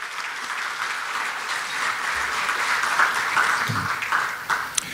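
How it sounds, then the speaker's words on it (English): Steady audience applause fills a charity award event, a broad even wash of many hands clapping at moderate distance, continuing unbroken throughout. "let's give them all a well-deserved round of applause"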